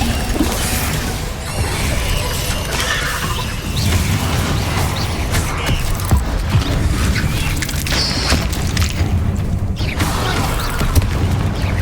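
Hogwarts Legacy Incendio fire spells go off in quick succession, a dense run of crackling, booming bursts and crashing combat effects at close range.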